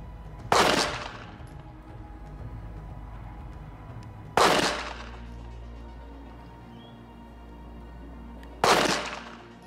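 Three sharp pistol shots from a Walther PPS with a red dot sight, fired at a target 50 yards away, spaced a few seconds apart, loud and close, each followed by a short echoing tail.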